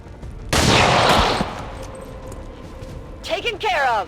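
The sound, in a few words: pistol shots in video game XCOM 2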